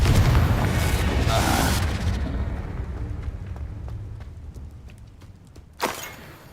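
A Confringo spell explodes in the Hogwarts Legacy video game: a loud, booming blast whose rumble fades over about two seconds, then scattered small clicks and a second sharp burst near the end.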